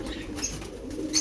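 Pigeons coo at the Shahdara pigeon market in Lahore, where Rampuri and Chaudhry pigeon strains are kept, a close, soft throaty cooing over busy market murmur with a brief rustle of wings at the end.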